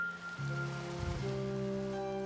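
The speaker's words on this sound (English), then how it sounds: "now it's raining" Rain falling in the Minecraft video game, a steady even hiss that starts after a brief quieter moment and continues alone under faint game tones.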